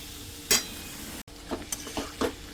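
Spices tipped into papdi beans and potatoes cooking in oil in a pan with green masala: a couple of sharp scraping clinks, then several soft stirring scrapes over a low, steady background, no talking.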